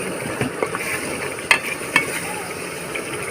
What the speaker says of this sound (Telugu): మనం మొత్తం ఇలా మిక్సింగ్ చేసుకోవాలి తిప్పుకోవాలి